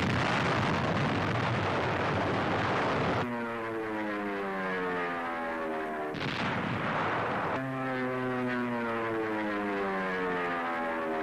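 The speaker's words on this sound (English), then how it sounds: "Now Mount Suribachi is smeared by Navy dive bombers." Navy dive bombers attack Mount Suribachi on Iwo Jima: a dense roar of blasts and engine noise gives way to steady propeller drone, broken by another burst of explosions before the droning aircraft returns.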